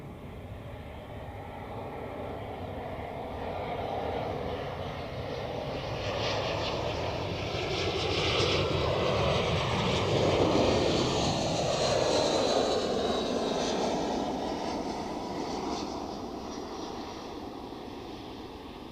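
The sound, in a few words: Air Serbia Airbus A319 jet arriving at Zurich Airport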